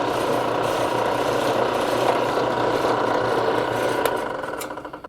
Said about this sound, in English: we're going to go ahead and start drilling this